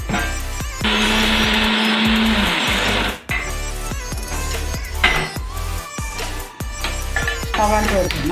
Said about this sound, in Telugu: మిక్సీ పట్టు.